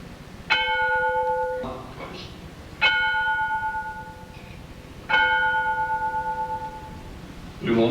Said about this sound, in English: We will now toll 3 bells to pay tribute to all the members of the U.S. submarine veterans of World War II